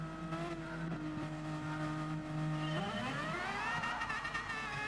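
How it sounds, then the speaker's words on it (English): All-wheel-drive GR4 race cars in a racing video game roll toward a rolling start, their engines humming steadily and then revving sharply upward in a rising, layered whine. "let's listen to those cars with a rolling start."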